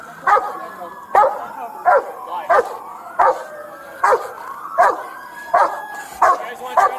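A police dog barks repeatedly in sharp, loud bursts spaced about a second apart during a tense police incident, with whimpering yips between barks.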